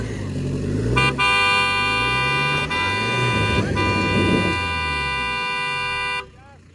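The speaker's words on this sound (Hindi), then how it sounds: "इसलिए भैया हॉर्न मारे थे" A Toyota Fortuner driver lays on the car horn during an off-road recovery, one long loud blare of about five seconds over a rumbling engine, cutting off abruptly.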